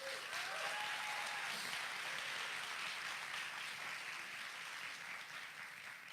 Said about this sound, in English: Please give them a huge ovation to the entrepreneurs that are behind me